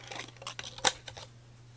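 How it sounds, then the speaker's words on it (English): A few faint scraping clicks, then a sharp crunching snap as a small tool sets an eyelet in a paper gift card holder, close up and quiet. "You want to set that eyelet in."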